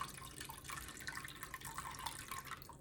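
Cooked clam liquid pouring and draining through a colander, a quiet, steady splashing trickle of water close by.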